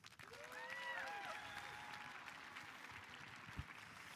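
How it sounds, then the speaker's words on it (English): Audience applause at the Ponderosa High School 2025 graduation ceremony, a steady wash of clapping from a large crowd held at an even level throughout, with some faint cheering whistles and voices near the start. "You may now applaud."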